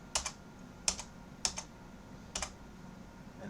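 Keys clatter on a computer keyboard in short, quiet bursts of two or three taps separated by pauses, close by with no talking.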